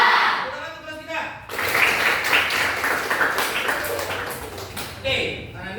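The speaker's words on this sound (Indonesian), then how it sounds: "Tepuk tangan untuk kelas kita." A classroom of students applauds together, a burst of dense clapping that starts abruptly and carries on for several seconds, with a teacher's voice talking just before it begins.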